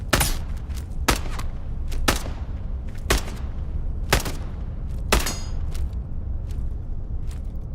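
Gunfire in Into the Radius 2, sharp loud shots roughly once a second, with quieter distant shots between them, over a low background rumble and no talking.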